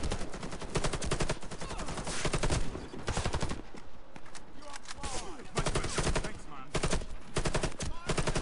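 Rapid bursts of FY 47 rifle fire in the shooter game Warface, dense repeated shots in quick volleys with short pauses, loud and close throughout.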